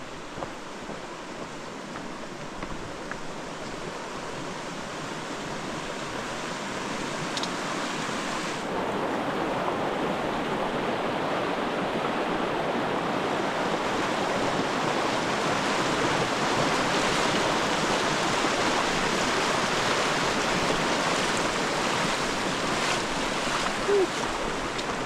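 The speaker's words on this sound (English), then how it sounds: "I think this is Headquarters Creek." Headquarters Creek near the Sun River flows in a continuous rushing hiss that grows louder partway through, as if moving closer to the water at a rough ford; no talking.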